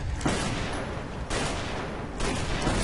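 Machine gun firing in the shooter game Inversion, a dense, sustained rattle of rapid shots that swells in three loud bursts, near and alone without talk.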